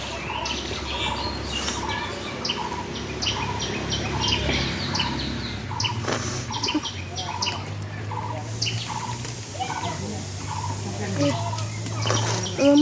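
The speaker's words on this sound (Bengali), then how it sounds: "মুরগি বাচ্চা ফোটাবে" A backyard hen clucks in short, repeated bursts near the listener, and other birds chirp around her while a person speaks briefly in the background.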